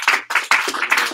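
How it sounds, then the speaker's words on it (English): A small group claps together in a quick burst of applause, sharp uneven hand claps close by, lasting about a second. "So if you can give them a big round of applause"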